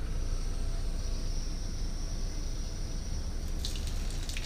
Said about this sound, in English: Go ahead, turn the water on,